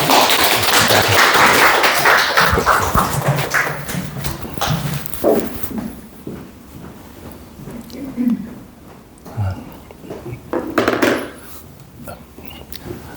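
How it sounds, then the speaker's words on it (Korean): Audience applause at a math academy information session in Cheonan opens loud and dense, then fades after a few seconds into scattered claps, shuffling and murmuring voices. "박수 한번 쳐주시죠"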